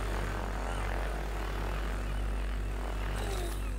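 A Wasp drone flies in Call of Duty Advanced Warfare, giving a steady, unbroken whirring engine hum that holds at a constant level throughout.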